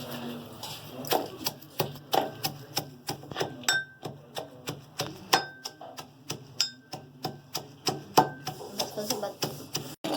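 Mint, green chili and white cumin pounded in a stone mortar, a steady series of sharp, close knocking thuds in an even rhythm, some with a ringing edge, continuing for the whole stretch without talk.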